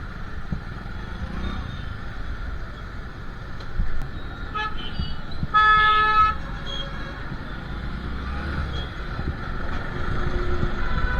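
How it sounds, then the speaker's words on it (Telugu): Car horns toot in short bursts amid a traffic jam on a road, with a steady rumble of traffic throughout and a louder cluster of honks near the middle. "ఇంత ట్రాఫిక్ జామ్ దేనికి?"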